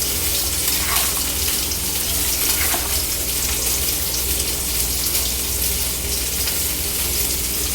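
Cumin seeds frying in a pan of oil and being lightly stirred, a steady, even sizzle that runs unbroken throughout, close and moderately loud, with no talking.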